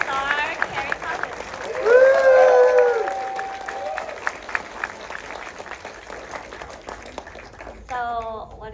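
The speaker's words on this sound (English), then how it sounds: "A huge round of applause." Audience at a film screening applauds a director and actress arriving for a Q&A. Scattered clapping and crowd noise sit under a host's loud speech, then continue more faintly after it.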